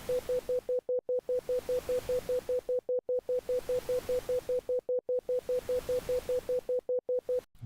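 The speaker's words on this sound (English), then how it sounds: "pink noise is going to be modulated by this slower sinusoidal modulation" Pink noise generated in SuperCollider, chopped into rapid even pulses with a steady tone and swelling and fading in slow waves under a slow sine modulation, loud, synthetic and continuous, with brief near-silent dips between swells.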